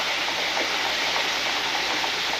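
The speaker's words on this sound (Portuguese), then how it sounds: "Chuva." A rain sound effect in a Portuguese radio drama: a loud, steady, unbroken hiss of downpour that fills the whole moment with no voices.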